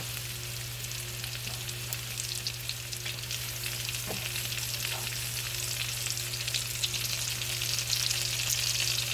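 Onions frying in butter in a pan for an African curry dish, a steady bright sizzle with a constant low hum underneath and an occasional soft clink, continuous and close with no talking.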